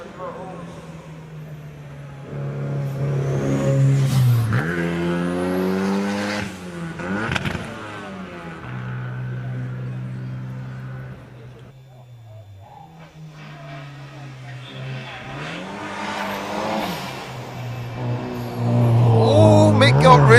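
A retro car powers up a hillclimb course at a retro car gathering, its engine revving hard and swelling in loudness beneath continuous commentary from someone speaking throughout.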